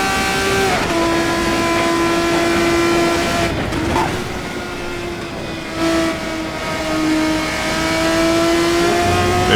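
Race car engine from the RSS 3 in the racing game Assetto Corsa, a steady high-revving drone with rising and falling pitch through gear changes, held loud and close throughout with no talk.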